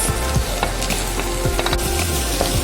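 Carrots and beans lightly frying in a pan for an omelette rice dish, a steady close sizzle with small crackles and occasional scraping stir sounds throughout.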